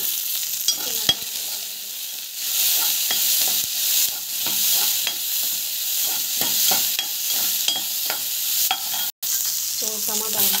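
Green chillies sautéing in hot oil for mint chutney give a steady, bright sizzle close by, broken by scattered clicks and scrapes of stirring, with a brief cut near the end.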